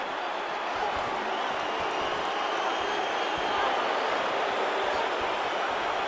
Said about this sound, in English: Crowd getting a little bit restless. Doctor has to tune out that noise